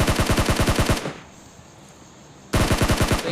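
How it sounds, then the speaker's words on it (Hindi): Automatic gunfire in the PUBG battle game: a loud, rapid machine-gun burst, a brief lull with faint background noise, then another sustained close burst of rattling shots. "रुक जाता हूँ मैं इधर, क्योंकि वो फायर कर रहे थे मेरे ऊपर।"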